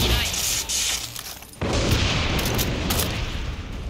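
A heavy explosion booms in the shooter game Far Cry 6, a loud sustained blast that drops away and then surges again into rumbling combat noise.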